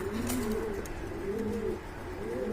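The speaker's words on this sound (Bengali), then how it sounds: "এটা হচ্ছে ব্ল্যাক মুখী কবুতর" Black Mukhi pigeons coo up close in a soft, repeated rolling pattern, three throaty phrases in steady rhythm over a low, continuous background hum.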